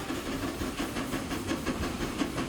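Train rolling along in the Transport Fever 2 game, set in the Swiss Alps, a steady hissing rumble with faint regular rhythmic clacks running continuously at moderate loudness, no talk.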